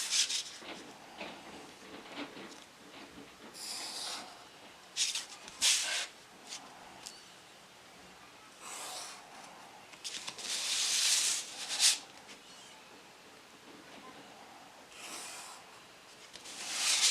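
A pencil scratches and rubs across paper while quarter circles are drawn for a gift box, soft, close strokes coming in short irregular bursts separated by quiet pauses.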